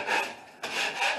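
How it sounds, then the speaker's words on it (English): Sandpaper rasps back and forth across a flat drywall ceiling in two close strokes with a brief pause between them, loud and scratchy. "they'll disappear as I kind of sand in between"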